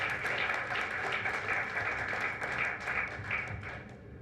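An audience at an aluminium industry conclave in Chennai claps after a conference session, a dense spread of hand claps that gradually thins and fades.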